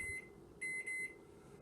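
A microwave oven heating a butter and chocolate mixture: a faint, steady hum with a short beep near the start and two longer beeps shortly after.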